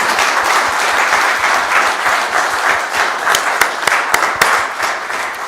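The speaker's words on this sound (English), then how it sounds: "Let's give him a round of applause." A round of applause from the audience at a central bank monetary policy announcement, dense steady clapping lasting throughout at an even, fairly loud level with a few sharper individual claps standing out.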